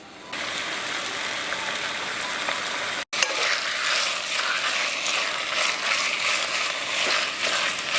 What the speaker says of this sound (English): Let's saute this until it turns slightly brown.